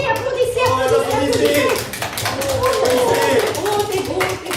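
Film audience applauding as the movie ends, a steady stretch of clapping with scattered taps, mixed with people chatting and talking over it throughout.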